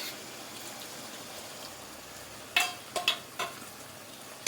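Cornflour water goes into a pan of chilli chicken with a soft, steady sizzle, followed by a few sharp clinks and scrapes near the end.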